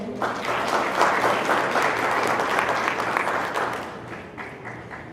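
A crowd at a high school senior night applauds with dense, steady clapping that holds strong for several seconds, then gradually fades away.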